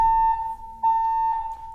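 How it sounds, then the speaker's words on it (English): A steady electronic alarm tone sounds continuously at one pitch, fairly loud and close, dipping briefly before resuming. "That's the Meryl Streep alarm."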